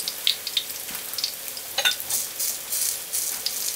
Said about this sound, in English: while this is frying, the oil can drain off of this